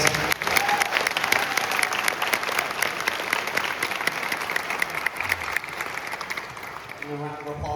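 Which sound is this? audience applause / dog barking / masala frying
audience applause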